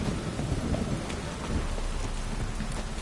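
Steady heavy rain hisses throughout while low thunder rumbles underneath, a constant stormy wash with no voices, in the video game The Witcher 3: Wild Hunt.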